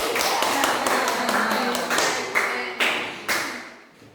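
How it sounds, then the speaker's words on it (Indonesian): A handful of people clap in scattered, uneven bursts that grow sparser and fade, with a little background chatter. "Tepuk tangan buat Chelsea."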